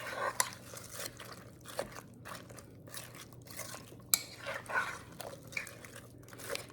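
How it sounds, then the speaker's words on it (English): A beef, onion and garlic mixture is stirred in a pot, giving soft irregular scraping, squelching and tapping sounds, quiet and close, with no talking. "Now I'm just going to give this a little stir, blend all these ingredients together."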